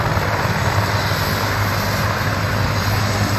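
A steady, loud medical helicopter drone with a low rotor thrum at a crash scene, continuous throughout with no voices.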